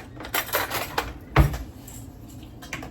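A spoon scrapes and clinks against a pot while instant mashed potatoes and gravy are stirred, with soft scuffing strokes and one louder knock against the metal, close and alone.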